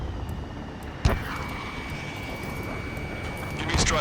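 A jet roars in the video game Ace Combat 7: Skies Unknown, a loud sustained engine drone over a city under martial law, broken by a sharp bang near the start and a surge at the end.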